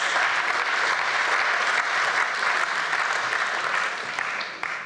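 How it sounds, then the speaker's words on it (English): An audience at a charity gala for rhinos applauds a balcony bidder during an auction, with dense, steady clapping that fades slightly near the end. "Give that man a round of applause."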